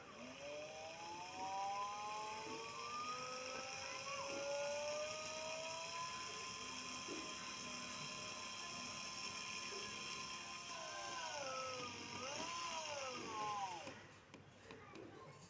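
A small 12-volt DC motor in a homemade oil-can air cooler runs steadily with a continuous whine and gliding tonal sweeps, holding even loudness throughout before dropping off near the end.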